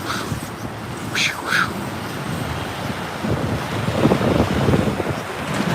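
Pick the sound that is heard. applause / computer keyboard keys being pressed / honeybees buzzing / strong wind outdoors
strong wind outdoors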